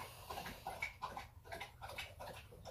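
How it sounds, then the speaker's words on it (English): Rhythmic wet lapping as an animal laps up water, a quick series of slurps repeating close by and fairly quiet. "My dog is drinking water right now."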